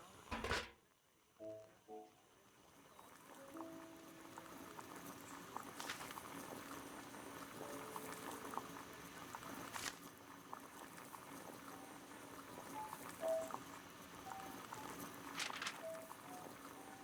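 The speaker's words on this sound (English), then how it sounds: "Boil water in kettle." A kettle of water boils on a gas burner in the Sherlock Holmes: The Devil's Daughter video game, a faint, steady bubbling hiss after a few brief clicks at the start, with no talking.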